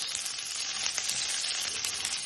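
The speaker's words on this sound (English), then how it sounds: "a little bit of olive oil, and I had these vegetables sitting around from the sauce. I'm gonna throw them right in there." Green and red peppers and onions sizzle in olive oil in a pan, a dense, crackling hiss heard close and fairly loud, continuous with small popping bursts and no voices.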